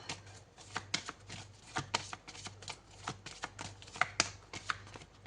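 Tarot cards are shuffled by hand in quick bursts of papery riffling and soft slaps, repeated rhythmically at close range over a quiet low hum, with no talk.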